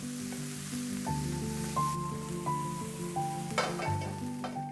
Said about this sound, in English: Onions, garlic, and ginger. Saute for 4 to 5 minutes.